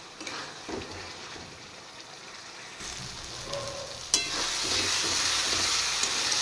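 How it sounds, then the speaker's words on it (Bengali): Masala spice paste fries in oil with dried chillies, and chopped tomato is added partway through, raising a louder, denser sizzle that continues steadily to the end. "এবার মশলাটা আমি একটু ফ্রাই করে নেব।"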